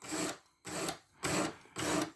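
A Sitivien ST147 knife with a black-coated 14C28N steel blade drawn across a sharpening stone, four even rasping strokes separated by short pauses, close and fairly quiet.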